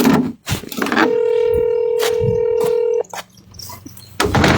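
A telephone tone rings steadily for about two seconds, then falls silent, with thumps and a brief voice before and after it.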